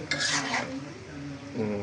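A spoon scrapes and stirs chepa shutki with Malabar spinach in a cooking pot: a brief clattering burst first, then quieter movement and another short scrape.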